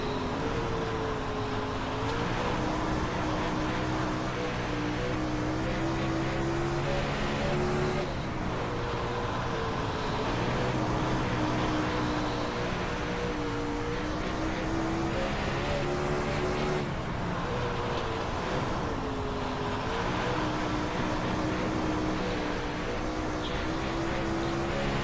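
A sprint car engine roaring around a dirt oval in the iRacing sim: a continuous loud, throaty drone that rises and falls in pitch with repeated throttle swells and lifts through the corners, with no talk over it.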